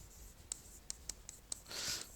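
Chalk or marker strokes on a board during a Hindi-medium Class 12 physics lesson on the photoelectric effect: a series of short, sharp scratches at a steady pace, then a longer rubbing stroke near the end, close and fairly quiet, with no talking.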